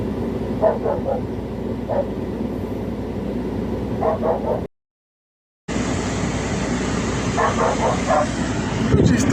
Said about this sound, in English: Where did these dogs come out from?